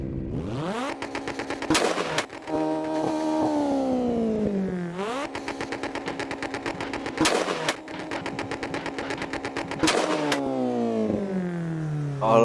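A Mitsubishi Lancer Evo in the racing game Assetto Corsa revs hard through repeated rising runs, each broken by sharp crackling gunfire-like pops at the gear changes, loud and alone.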